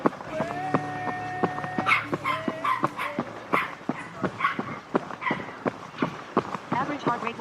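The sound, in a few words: two dogs on a roadside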